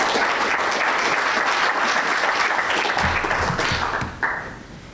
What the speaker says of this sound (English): it's good to get clapped before I start